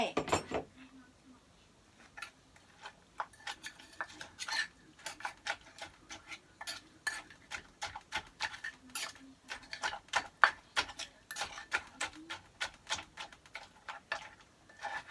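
Ingredients stirred and pounded in a mortar while seasoning with fish sauce: irregular light clicks and taps of the pestle, fairly close but soft, scattered through the whole stretch with brief pauses.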